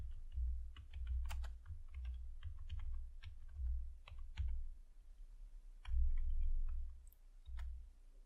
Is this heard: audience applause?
no